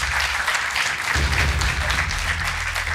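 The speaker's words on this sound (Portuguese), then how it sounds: "Um aplauso para o António, desafiador desta noite." A studio audience on a Portuguese quiz show claps together for a contestant, a full, sustained burst of many hands with a low hum underneath running through the whole stretch.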